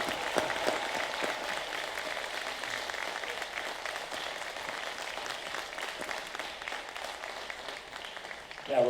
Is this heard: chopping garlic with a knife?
no